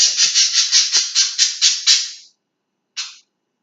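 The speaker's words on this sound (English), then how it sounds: "So if you hear birds in the background," A bird gives a quick run of about nine bright, high chirps, pauses, then adds one more; close and clear.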